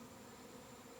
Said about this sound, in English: As you can see, just hundreds of bees. I think they're honeybees, must have been in that tree.